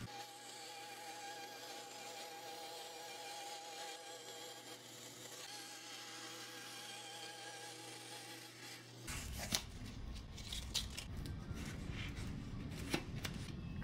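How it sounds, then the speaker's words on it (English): A bandsaw cutting a small piece of plexiglass. A steady hum runs first, then a harsher, louder rasping cut with scattered sharp ticks, all close. "Here I have a piece of plexiglass, and I'll just cut a small piece on the bandsaw."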